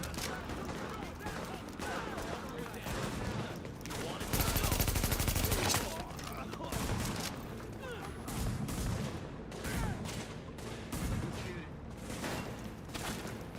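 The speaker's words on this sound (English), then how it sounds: "Why is everybody fighting with pistols?" Pistol gunfire in Tom Clancy's The Division, rapid overlapping shots crackling throughout a dense firefight, with a heavier burst partway through and talk mixed in.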